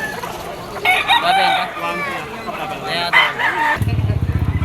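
A talisay rooster with white legs and a straight comb crows loudly and close at a busy Malabon pet market, with clucking and other fowl noise around it and a rapid rattling pulse at the end.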